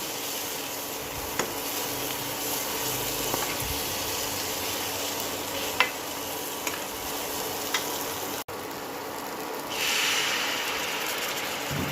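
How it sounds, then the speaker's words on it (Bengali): Shrimp masala for chingri rasha kasha fries in oil with a steady, dense sizzle and a few scraping clicks, then a short brighter hiss near the end as a little water is poured into the hot pan. "এবার দিয়ে দেবো একটু জল।"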